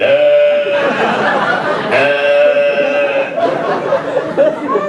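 Young goats bleat loudly and steadily at a crowded gathering, long wavering cries close by that overlap with a murmur of voices and chatter.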